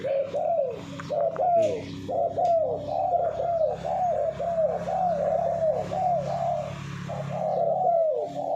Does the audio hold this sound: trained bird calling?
yes